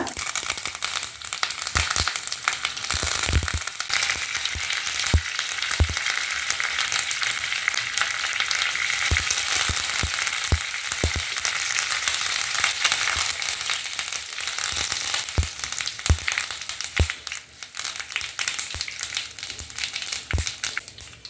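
Loud, steady sizzling of dried chilies and curry leaves frying in hot oil, with frequent sharp crackles and pops throughout.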